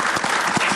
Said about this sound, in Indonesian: tepuk tangan dong buat Siva.